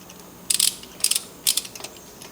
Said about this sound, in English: So I'm going to put an 85-pound audible torque wrench on it.